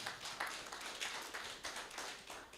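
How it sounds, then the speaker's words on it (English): A small conference audience claps for a presenter, sparse and uneven hand claps lasting a couple of seconds, fairly quiet in a hall. "Clap for this presenter."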